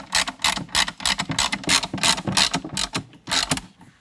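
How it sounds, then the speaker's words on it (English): Bolts on a K&N 63 Series AirCharger air intake for a 2019 vehicle are tightened with a 4mm Allen wrench, producing a close, rapid series of regular ratcheting clicks and metallic scrapes. "Then we're going to tighten those down with a 4mm Allen wrench."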